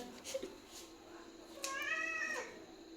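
A cat meows twice, the second call longer and drawn out, close by over a quiet room with faint background voices.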